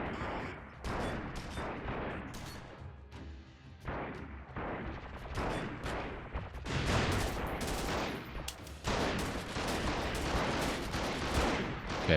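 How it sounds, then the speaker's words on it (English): Shotguns firing in the PC war game Freeman Guerrilla Warfare, a dense and continuous battle din of overlapping blasts and rattling volleys, loud and sustained throughout with no pauses. "Oh yeah, that's shotguns. That's the shotguns."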